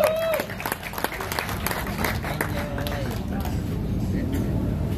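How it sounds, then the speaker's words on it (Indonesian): An audience at a drummer's show in Karawang applauds Ray Prasetya, steady clapping mixed with crowd noise and background voices, with a few sharper claps near the start. "Jadi tepuk tangan dulu buat Ray Prasetya teman-teman"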